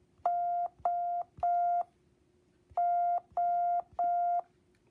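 Morse code letter O: three long, steady beeps at one pitch, a short pause, then three more long beeps, clean against a quiet background.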